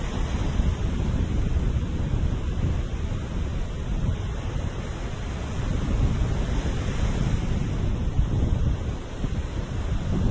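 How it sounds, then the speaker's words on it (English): Wind and surf roar steadily under a beach pier. Heavy low buffeting from the wind mixes with the constant wash of the waves, with no voices. "You could probably hear the wind pick up as I stepped under the pier here"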